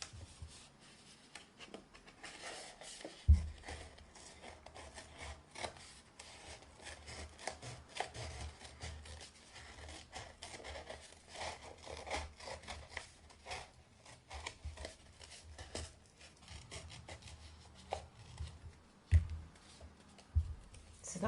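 Paper or thin card being cut out into a wreath rim for a New Year's family craft, a steady run of soft rubbing, snipping sounds close by with faint low rumble, no voices.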